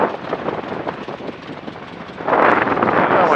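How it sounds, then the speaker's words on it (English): A de Havilland Tiger Moth biplane's engine while landing at Duxford, a close, loud propeller drone with rushing wind that swells louder near the end. "we bring the nose up and we have to get the nose up in the air as if we were taxiing along and then it falls the last 6 inches to the ground"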